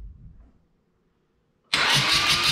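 After a few quiet moments, an off-road vehicle's engine fires abruptly and roars into a loud, steady run close by.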